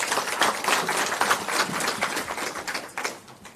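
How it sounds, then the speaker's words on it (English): An audience at a provincial research colloquium applauds a speaker with a dense burst of clapping that carries on steadily and then begins to thin out near the end. "Can we just give the Honorable MEC another round of applause?"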